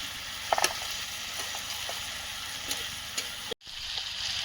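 Chicken frying in a pan with spices, onion, tomato and green chili gives a steady, close broadband sizzle with a few small pops and stirring scrapes, cutting out briefly near the end before resuming.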